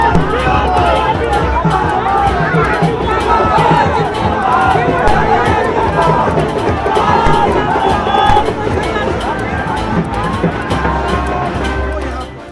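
Party workers crowding a political road show on the streets of Patna, a loud, dense roar of cheering, shouting and chanting that keeps up without a break, with traffic noise mixed in.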